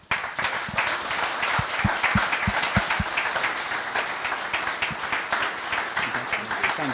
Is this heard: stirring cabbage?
no